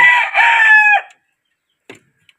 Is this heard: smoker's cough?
no